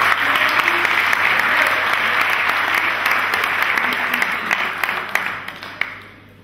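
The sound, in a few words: applause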